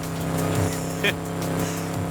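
Steady car engine hum from Forza Horizon 5, near Mexico's Copper Canyon, holding a constant drone with a brief bright burst midway, layered with game music or background tones.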